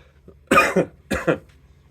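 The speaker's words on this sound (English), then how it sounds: "Sorry if I cough." Two sharp, close coughs in quick succession, each with a short double burst, against a quiet background.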